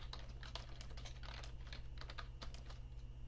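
Computer keyboard typing as a note is entered, a quick run of soft, close key clicks over a steady low electrical hum, with no voices.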